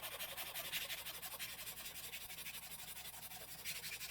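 A magic eraser rubs steadily over dirty NES game cartridge pins, giving a faint, continuous scrubbing hiss with slight rhythmic strokes throughout.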